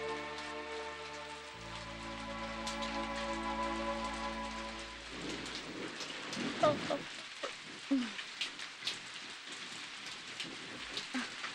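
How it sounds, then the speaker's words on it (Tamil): Rain falls as a steady hiss that grows clearer after a sustained musical tone fades, with scattered heavier drops and faint low rumbles toward the end. "இந்த மழையிலையா?"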